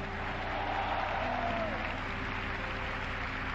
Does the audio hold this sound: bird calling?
no